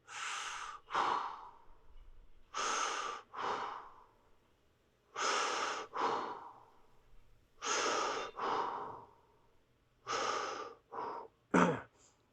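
Slow, deep breaths during a lower-body fascia stretch, five long inhale-and-exhale pairs close to the mic, separated by quiet pauses, ending with a quicker sharp breath.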